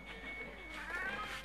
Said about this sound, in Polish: Czarny kot dobija się do okna.